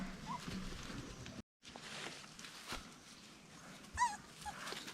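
A puppy, the smallest of her litter, gives a few soft high whimpers and yips over a quiet indoor background, with a sharper cry near the end.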